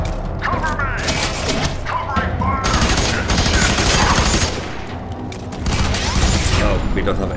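Heavy automatic gunfire in a F.E.A.R. 3 shootout against a sniper, loud continuous bursts with thuds and shattering debris, talk briefly mixed in.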